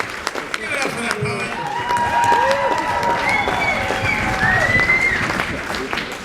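An audience at a poetry slam final claps and cheers loudly and steadily, a room full of applause with a few whoops and voices mixed in.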